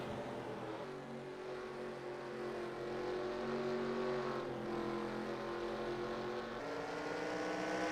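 Race cars circle an oval track in an All Star Race, with car 799 running low on the track. Their engines give a continuous, fairly quiet drone that rises and falls slightly in pitch.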